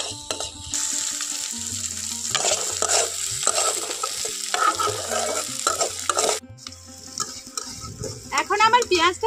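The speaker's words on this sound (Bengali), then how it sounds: "এখানে পেঁয়াজটাকে একটু ভাজা ভাজা করে নিতে হবে।" Chopped onions sizzling in a pan while being stirred, with bursts of scraping and crackle over a steady fry, close and clear, ending in quieter clatter with no talk.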